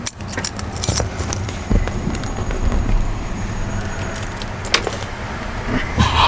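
Keys to a rusted 1994 Ford F-150 pickup jangle and clink repeatedly at close range, with scattered metallic clicks and a low background rumble.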